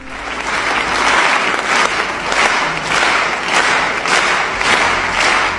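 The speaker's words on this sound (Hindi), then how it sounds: "इस वीडियो में ऑडियंस एक परफॉर्मेंस के लिए तालियां बजा रही है।" A large audience applauds after a performance, a dense, loud wash of clapping that swells and eases in waves, with no voices above it.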